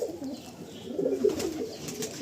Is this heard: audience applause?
no